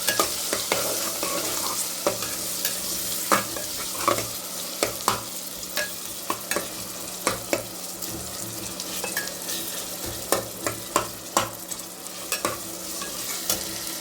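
Tomatoes sauté in a pan for a broken-rice pulao, giving a continuous soft sizzle broken by the repeated scrape and clack of a spoon stirring against the pan, close up and with no talking.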